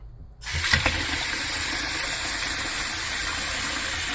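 Water gushes steadily from a tap after a quiet moment, a constant rushing flow that stays loud and even to the end.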